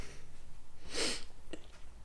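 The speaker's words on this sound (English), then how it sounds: "Sorry if I'm sniffing a bit today, by the way. Got a bit of a cold" One sharp, congested nasal sniff from a person with a cold, close and loud, followed by a smaller snuffle, over a low rhythmic background hum.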